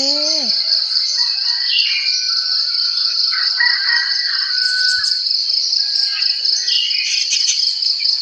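At a rural home in Thailand, a rooster crows, its call mid-distance and partly buried under a constant, loud chorus of crickets, with scattered bird chirps around it.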